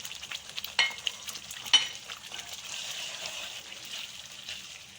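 Spice paste fries in a pan with salt and chili, giving a soft, low sizzle with a few sharp scrapes and clicks of stirring near the start.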